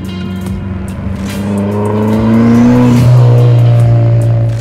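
A 1983 Toyota Sprinter fitted with a fully built Toyota 3S-GTE engine from a Caldina revs loudly up close, its note rising in pitch over a few seconds, then dropping back and holding.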